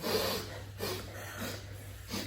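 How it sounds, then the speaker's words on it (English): Several quiet, breathy sniffs through the nose from a group in a class come in a loose rhythm, faint and soft against a low background hum. "Can you do some big sniffs for me?"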